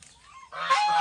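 A male goose gives a single loud, nasal honk that rises sharply after a brief quieter lead-in, heard close up.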